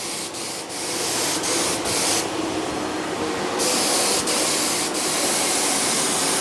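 A Graco HVLP 9.5 paint sprayer, turned right down, hisses steadily at close range in a small workshop, with a few brief surges in the airy spray noise.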